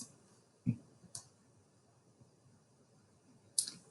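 A few quiet, sharp computer mouse clicks, made while pressing the Start button in Microsoft Word, spaced irregularly in a hushed room.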